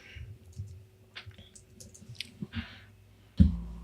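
Sparse light clicks of keyboard typing while entering details in a visa application form, faint and irregular, followed by a louder thump near the end.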